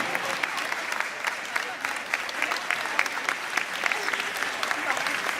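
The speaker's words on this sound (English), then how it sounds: "come on, you can give a round of applause" Dense, steady applause from the audience at the 2014 Lawrence High School alumni scholarship award dinner. Many hands clap together at a constant level for the whole stretch, with faint voices mixed into the crowd.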